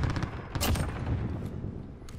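Rapid bursts of video game gunfire crackle loud and close in a dense continuous volley with no voices.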